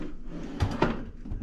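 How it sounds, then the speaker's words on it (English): A cabinet drawer slides shut after new handle hardware is fitted, giving a single soft knock with a short rattle, close by in a quiet room. "Shut the drawer."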